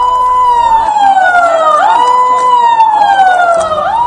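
A wailing siren sounds in Bhopal as a COVID alert, rising and falling in long sweeping cycles, loud and continuous with no talk over it.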